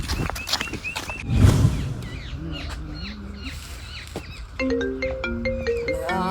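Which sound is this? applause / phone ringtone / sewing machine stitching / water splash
phone ringtone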